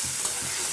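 Onion, ginger and garlic paste hitting hot oil with whole spices and sugar for a potato curry: a brief, dense close sizzle with no voices.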